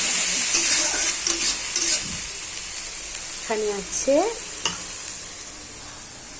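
Ginger-garlic paste with green chilli and onion paste frying in a pan over browned onions, a steady sizzle under brief speech and stirring scrapes, with a couple of short bright tonal squeaks.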